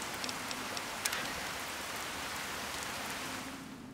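Steady rain in the video game Fallout 3, a continuous even hiss of falling drops that holds throughout with a few brief sharper ticks near the start, then fades slightly at the end, with no talk.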